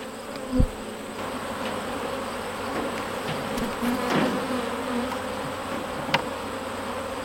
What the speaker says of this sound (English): These bees are so much more chill than the bumblebees when we opened up their hive.